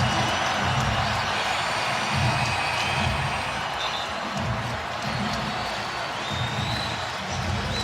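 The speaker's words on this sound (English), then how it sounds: "And listen to this crowd." A college basketball arena crowd at Providence cheers loudly and continuously in a big reverberant wash of voices, with muffled low thuds from the court beneath.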